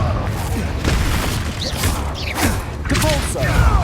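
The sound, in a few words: Confringo spell blast, Hogwarts Legacy video game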